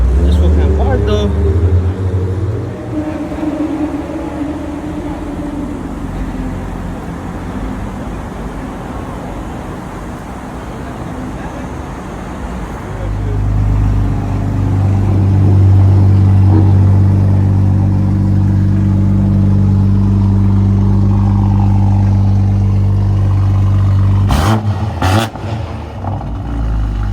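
A car with a catless downpipe exhaust revs loudly at an LA park-and-chill car meet, its engine droning and rising in a long swell, with people talking nearby and a couple of sharp pops near the end.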